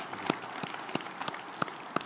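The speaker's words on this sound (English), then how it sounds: "So please join me in a round of applause for these two folks." Scattered, sparse handclaps from an audience at a naval seapower keynote ring out faintly, roughly a handful of separate slaps spaced unevenly over a quiet room.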